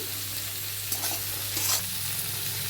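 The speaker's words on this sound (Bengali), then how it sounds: "এবার আমি এক এক করে মশলাগুলো দিয়ে দেব। টমেটো কুচিটা দিয়ে দিলাম" Chopped tomato hits hot oil with fried pointed gourd, producing a steady close sizzle with a couple of stirring scrapes and no voices.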